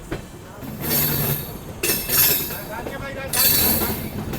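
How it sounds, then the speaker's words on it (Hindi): The Patna Rajdhani Express to New Delhi passes close by a moving train near Prayagraj Junction, a rushing roar with rhythmic wheel clatter and metallic clinks that rises in bursts, with a voice exclaiming briefly. "ओहो पटना राजधानी आ रही है भाई।"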